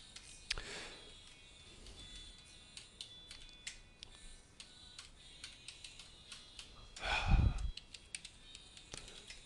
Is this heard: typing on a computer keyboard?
yes